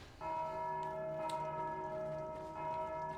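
A bell in a video game dungeon dead end rings out with sustained, resonant tolling tones, struck once early and again near the end, clear and fairly soft with no talking.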